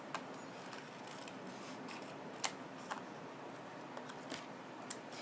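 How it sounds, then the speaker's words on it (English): Quiet snips of scissors trimming the edges of a card, several sharp clicks spaced irregularly against a soft, hushed background. "let me trim the edges off here"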